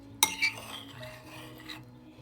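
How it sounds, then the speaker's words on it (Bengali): A spoon stirs whole moong dal in a bowl partway through microwave cooking, giving a sharp clink of metal on the bowl, then a short scrape and soft rubbing as the spoon moves, close and quiet. "এর মধ্যেই চামচ দিয়ে একটু নাড়াচাড়া করে দিলেই হয়ে যাবে"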